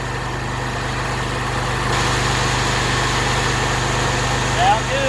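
A Polaris UTV engine idles at half choke with a steady, low, even drone that holds at constant loudness throughout, slightly rougher in the second half, with a faint voice in the background.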